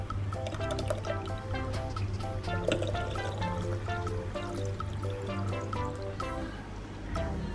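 Running water pours steadily over baking pan parts being washed, a continuous close splashing stream with light clinks of metal and a low hum underneath, no one speaking.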